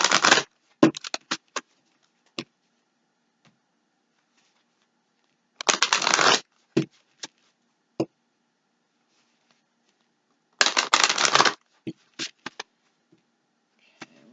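Oracle cards are shuffled in three separate bursts of riffling and tapping, each lasting about a second, separated by quiet pauses and a few soft clicks, with someone talking between them.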